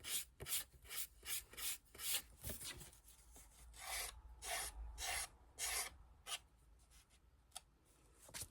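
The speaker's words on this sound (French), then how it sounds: "il me faut mon petit ma petite lime" A small hand file rasps against a paper card for a round openwork scrapbooking card, in quick rhythmic back-and-forth strokes that are close and clear, with a few short pauses and no talking.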